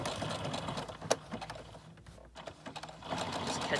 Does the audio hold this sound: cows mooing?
no